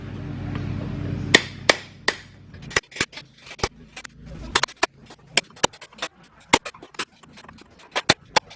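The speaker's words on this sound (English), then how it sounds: "get a chisel and your big hammer, and you'll want to kind of peel" A big hammer strikes a chisel against a rusted-together truck leaf spring, giving sharp metallic clanks spaced irregularly at roughly half-second intervals, loud and close, after a stretch of low background rumble.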